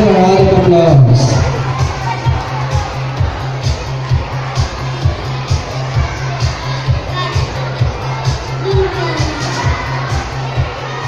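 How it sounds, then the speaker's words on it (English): At a family duet singing contest, a crowd applauds and cheers, with a loud burst of shouts at the start easing into sustained clapping and cheering over a steady thumping beat. "So let's give them a round of applause."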